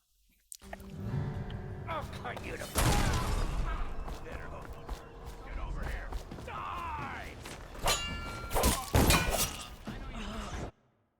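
In the video game Dishonored, a dense, loud blast of crashing, shattering and thudding game effects rolls on for several seconds, with bursts of debris and impacts layered over a rumbling low end.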